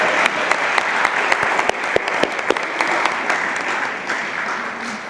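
An audience applauds at a literary conversation evening, with steady, dense clapping and scattered sharper claps that last throughout at a moderate distance.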